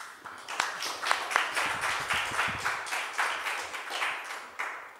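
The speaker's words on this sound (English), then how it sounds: "Maybe we can clap hands for him." An audience at a conference on green-economy skills in Africa applauds a speaker, a steady run of sharp, uneven hand claps at moderate volume filling the stretch without any talk.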